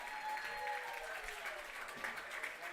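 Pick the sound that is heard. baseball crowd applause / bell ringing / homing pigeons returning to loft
baseball crowd applause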